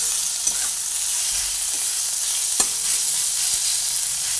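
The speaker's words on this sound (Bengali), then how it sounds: "হলুদ গুঁড়ো দেওয়ার পরে আবার একটু ভালো করে নাড়াচাড়া করে নিচ্ছি।" Ridge gourd masala with turmeric sizzles steadily in a pan while being stirred, a close, continuous frying hiss with occasional light spatula taps against the pan.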